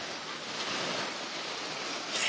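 Black Sea surf washing onto a Bulgarian beach at Sunny Beach, a continuous broad rushing hiss of waves with some wind buffeting the microphone, no voices.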